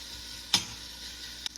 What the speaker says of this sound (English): I really want it to saute.